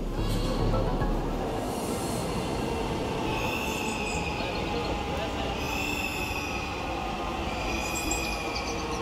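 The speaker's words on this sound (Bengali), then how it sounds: "অপেক্ষা করছি মেট্রো রেলের জন্য," A metro rail train pulling into a station, with a loud, steady rumble of wheels on track and high squealing and whining from the rails throughout, close by and continuous, with faint voices under it.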